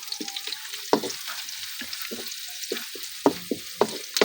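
Onion and garlic sautéing in a pan, a steady crackling sizzle broken by sharp scraping stirs and clinks of a spatula, close and clear with no talk.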